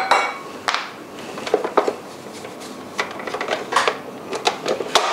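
Unsalted butter at room temperature beaten in a bowl for white chocolate cookies: irregular clacks and scrapes of the utensil against the bowl, close and fairly loud, with no talking.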